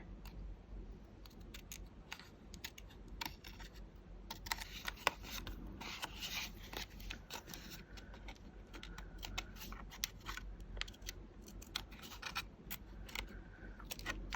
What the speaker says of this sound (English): I'm just gonna cut away from the edges here